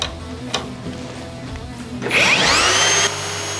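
Makita 40V XGT RP001G cordless router spinning up and cutting a pass through material, a steady whine that rises sharply and holds loud near the mic for about a second before dropping back to a lower running hum.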